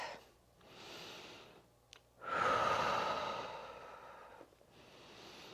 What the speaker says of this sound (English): I'm exhaling as I sink into it